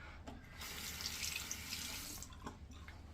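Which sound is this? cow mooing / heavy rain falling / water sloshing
water sloshing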